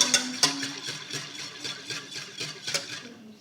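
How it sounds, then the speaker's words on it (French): A spoon stirs ingredients for homemade yogurt in a bowl, giving a soft, rhythmic series of scraping clinks, repeating steadily and close by at a fairly quiet level. "Là, je mélange bien."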